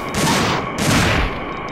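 Loud gunfire in Dino Crisis 2 against dinosaurs, two heavy blasts close together, each rolling into a dense burst of noise and then trailing off, close and without talk.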